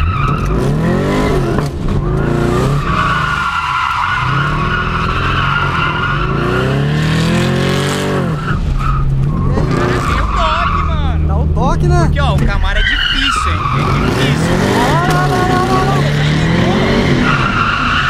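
An automatic Chevrolet Camaro skids and spins under handbrake, with loud, continuous wavering tire squeal over a roaring, surging engine while people talk over it.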